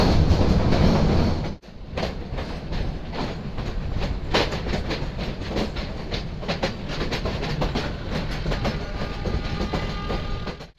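Heritage train running on rails through Goram Ghat in Rajasthan: loud, continuous rumble and rhythmic clickety-clack of wheels on track, briefly dropping after a sudden change early on, then steady rolling noise to the end.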